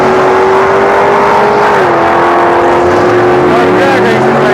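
A Camaro drag car at a drag strip roars with a loud, steady engine note that dips, then climbs again as a second, lower tone rises beneath it.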